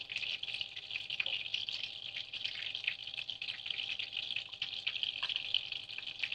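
Liquid poured onto potatoes in a steady stream with a faint hiss and occasional drips, continuous and close, no voices.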